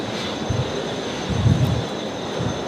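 An airplane taxis at night at Brisbane Airport, a continuous low engine rumble with swelling pulses, heard from a distance and with no talk.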